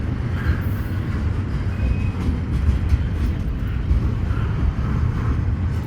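A passing freight train rumbles steadily and close, with a faint whine from wheel slip riding over the broad, continuous rolling roar of the cars.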